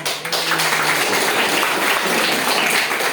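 Schoolchildren in a classroom clap together in a brisk, continuous burst, fairly loud and close, with a short hum of a voice at the start.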